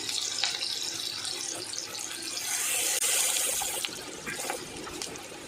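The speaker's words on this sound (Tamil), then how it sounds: "இப்போ எண்ணெய் நல்லா காய்ஞ்சிருச்சு நம்ம கட் பண்ணி வச்சுருக்க வெங்காயத்தை வந்து அதை சேர்த்துக்குவோம்" Chopped large onion dropped into hot oil for a hotel-style chicken gravy, sizzling with a steady bright hiss that swells after a few seconds, close and alone without talk.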